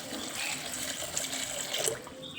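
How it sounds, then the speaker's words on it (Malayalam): Boiling water pours in a steady splashing stream into a pot, close by, with no talking. "ഇനി അതിലേക്ക് വേവുള്ള വെള്ളം ഒഴിച്ച് കൊടുക്കുക"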